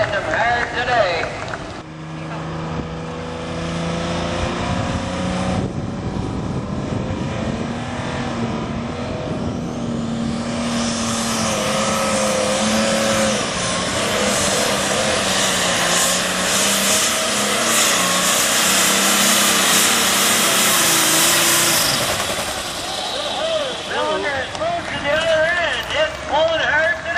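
A super stock pulling tractor called the Dirt Commander roars at full power through a long, sustained pull at a county fair tractor pull, its engine loud and climbing in pitch, with crowd noise and voices underneath.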